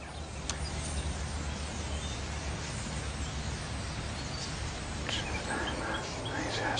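A huge flock of thousands of starlings gathers overhead, producing a dense, continuous wash of chattering calls with a few sharper chirps standing out.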